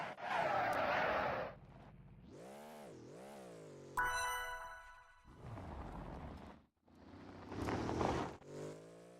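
A rally car racing in a video game during an April Fool's event: rising and falling synthetic engine tones, bursts of tire skidding and a bright chime-like effect, moderately loud, with no talking.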